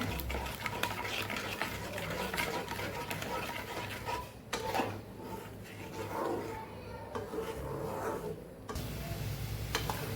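Tomato chutney with sugar being stirred in a pan over low gas, a steady scraping and swishing that runs through most of the stretch with a brief dip partway, under a faint talking voice.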